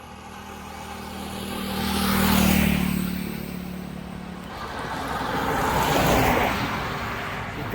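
Cars pass on a busy road near a workshop in Sangameshwar, two broad swells of engine and tyre noise rising and fading, one vehicle close with a low engine drone.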